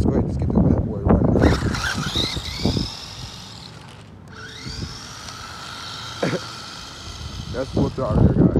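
A Funtech 1:18 RC truck with a 380 motor at full throttle gives a high, rising electric whine that sweeps up, drops away and revs again, while someone talks over it at the start and end.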